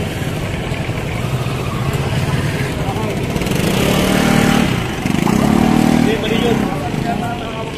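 A motorcycle engine idling and revving nearby amid street noise, with people talking over it.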